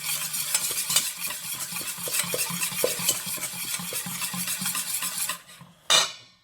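A spoon stirs a garlic purée mixture for rouille sauce in a bowl, giving steady scraping, clicking strokes throughout, close and fairly loud, ending with a short louder scrape after a brief pause.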